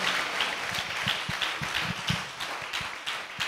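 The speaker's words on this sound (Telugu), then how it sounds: "నేను ఏసయ్య బిడ్డను చప్పట్లు కొట్టేసుకోండి." A church congregation claps together in a quick, steady rhythm, many hands blending into a moderately distant patter of beats, with no speech.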